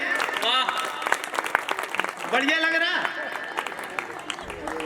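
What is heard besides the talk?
applause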